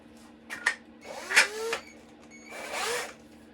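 A handheld drill spinning a dogwood candlestick as a portable lathe, with short whirring bursts followed by a longer sustained whine, close and fairly loud, separated by brief quiet gaps.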